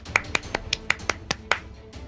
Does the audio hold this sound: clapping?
yes